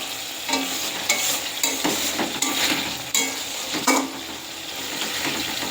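Masala bhindi, spiced okra, sizzles steadily in a pan while a spatula scrapes and stirs, knocking against the metal every second or so, close and fairly loud with no voices.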